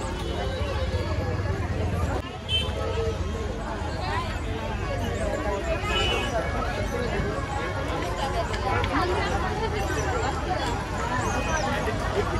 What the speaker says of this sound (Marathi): तर मित्रांनो किती गर्दी आहे